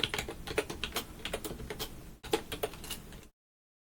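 Rapid typing on a computer keyboard while packaging a Python app, with a steady stream of close, crisp key clicks, a brief pause near the middle, then more keystrokes before falling silent.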